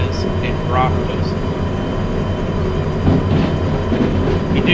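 Freight train cars being hauled and braked in the Derail Valley railway game, a steady loud rumble of rolling stock with faint squeals, heard under ongoing talk.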